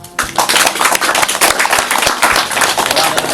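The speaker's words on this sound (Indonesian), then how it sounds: "tepuk tangan untuk kita semua" An audience at an organic farming training session claps in a loud, close burst of dense applause, with thuds and voices mixed in.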